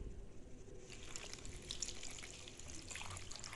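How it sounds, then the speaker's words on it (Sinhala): Water pouring into a pot of breadfruit curry, a steady close splashing trickle that runs throughout without a break. "මම මේකට වතුර කෝප්ප කාලකට ටිකක් අඩුවෙන් දා ගන්නවා"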